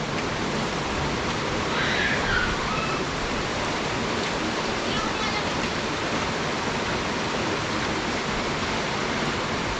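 Rain falls steadily on an open construction site, a dense, even hiss that stays constant throughout with no voices.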